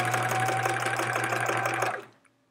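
A domestic sewing machine stitches in a fast, steady mechanical chatter while free motion quilting a scrap-fabric chevron quilt, running loud and close for about two seconds before stopping.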